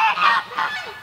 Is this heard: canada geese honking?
yes